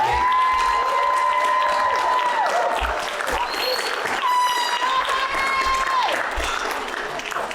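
Sustained audience applause with cheering and whistles fills a graduation ceremony for the Class 58 graduates, loud and continuous throughout, with a steady tone running beneath the crowd noise.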